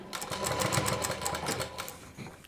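Sewing machine stitching a kurti for a Rajputi suit, running in a steady rapid burst of needle strokes for a couple of seconds before slowing, close and fairly loud with no talk.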